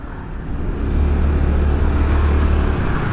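A Honda Beat motorbike rides through congested traffic on Jalan Raya Canggu in Bali, giving a steady, fairly loud low engine drone that builds slightly among the surrounding road noise, with no talking.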